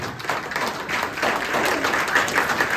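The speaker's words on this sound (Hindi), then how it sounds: "ताली बजाओ भाई।" An audience at a Republic Day free health checkup event claps together, a brief burst of close, moderately loud applause that swells and holds for a few seconds.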